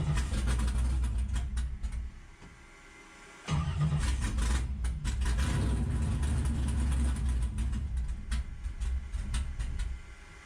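Race car engine running cold just after starting, a close loud rough idle with a short drop to near silence before it catches again and keeps running unevenly.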